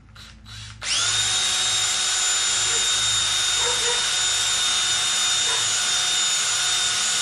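A power drill bores a hole in the metal frame of a model train car. After a brief rustle it spins up into a loud, steady, high whine that holds close and unbroken to the end.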